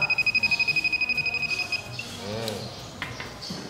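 A refrigerant leak detector beeps in a fast, steady pulse about twenty times over two seconds as it picks up a freon leak, then stops, followed by faint handling noise.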